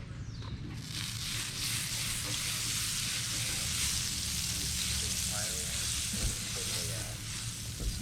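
Butter sizzles and crackles steadily in a pan at a lakeside campsite, a dense, continuous frying hiss held close and fairly loud for the whole stretch, with faint background stirring.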